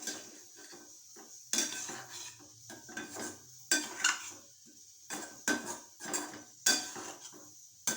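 A spoon stirs egg thokku up and down in a pan, giving repeated clinking metal scrapes and taps in irregular bursts, fairly close and quiet, with no voices.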